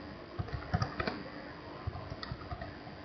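Keys clatter on a computer keyboard in quick, uneven bursts of close, quiet clicks, with no talking over them.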